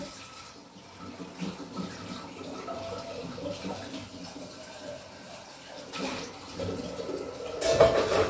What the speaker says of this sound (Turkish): çaydanlığımızı durulayalım